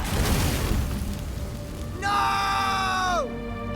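Bombarda spell in Hogwarts Legacy going off as a deep booming burst with shouting, then a bright ringing magical tone that sustains for about a second before sweeping down and cutting off.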